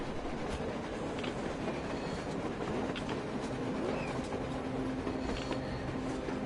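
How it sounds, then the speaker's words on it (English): A train passes on the surface in a video game, a faint continuous rumble with soft rail clatter and a thin metallic squeal running steadily in the distance, without voices. "A train! A damn train on the surface!"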